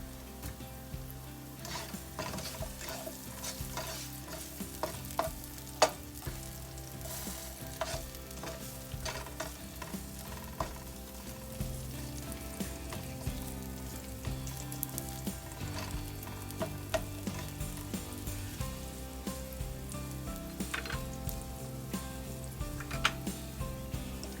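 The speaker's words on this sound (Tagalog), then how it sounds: "hinihintay po lang natin para yung ating bawang at sibuyas na medyo maluto" Garlic and onion frying in a pan for shrimp curry with potato, a steady crackling sizzle with scattered pops and occasional utensil scrapes, close and continuous throughout.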